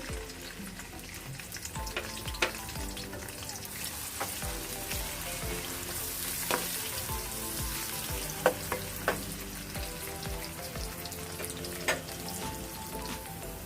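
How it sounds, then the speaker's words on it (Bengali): Chopped onions frying in oil with bay leaf, cinnamon and cardamom crackle and sizzle steadily throughout, punctuated by sharp pops and stirring clicks, with no voices. "পেঁয়াজ তো ভাজা হয়ে গেছে"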